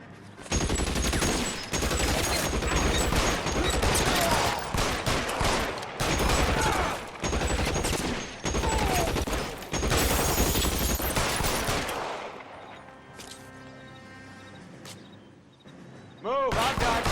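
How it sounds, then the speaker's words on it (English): Dense, loud bursts of automatic and pistol fire rattle almost nonstop in a police shootout in the video game L.A. Noire, then fade to a quieter tail with a ringing tone and a last shot; voices can be heard among the shots. "Shots fired."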